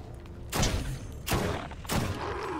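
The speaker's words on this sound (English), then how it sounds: "I did not realize it shot one bullet at a time." Single shots from a gun in Borderlands ring out three times, evenly spaced about 0.7 seconds apart, each a loud sharp blast that trails off with a short echo.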